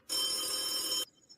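A telephone rings in one steady, loud, unbroken burst of about a second, then cuts off abruptly to near silence, with no one talking.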